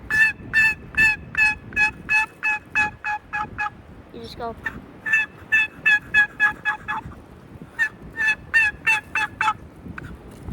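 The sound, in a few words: turkey call imitating a hen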